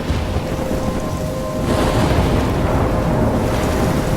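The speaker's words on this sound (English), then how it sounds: "I'm trapped in a storm?" Heavy rain pours through a thunderstorm in the game Life is Strange, steady and close, with a low rumble of thunder swelling partway through and no voices.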